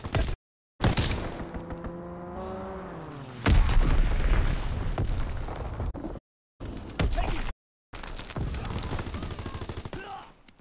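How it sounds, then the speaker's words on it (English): Bomb blasts and battlefield gunfire roar in a World War II shooter game, with a descending whistle before a heavy booming impact, followed by crackling fire and debris, broken by several brief silent gaps. "Enemy bomb incoming!"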